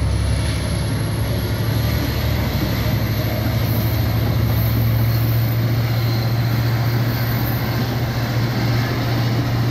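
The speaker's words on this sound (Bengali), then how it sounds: "এই যে ট্রেনটি আবার রওনা দিল অ্যান্টিওক রেলওয়ে স্টেশন অভিমুখে।" A double-decker local train pulls away toward Antioch station, a loud, continuous low rumble and drone that holds steady throughout without breaks.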